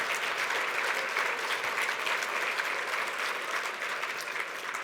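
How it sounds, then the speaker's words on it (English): An awards ceremony audience applauds a high school track winner in a broad, steady wash of many hands clapping, even and sustained throughout, with no voices over it. "let's give a round of applause for Taylor James"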